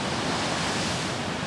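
Strong ocean waves breaking at a surfing beach in Hawaii, a constant loud roar of surf with steady wash and no clear gaps, no voices present.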